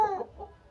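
Rooster giving one short, close cluck that fades quickly, heard alone.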